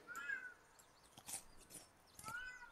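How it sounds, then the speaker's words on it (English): A domestic cat meows for attention, giving two drawn-out meows about two seconds apart. Both are faint and sit over quiet background clicks. "the cat is meowing at me because she wants attention"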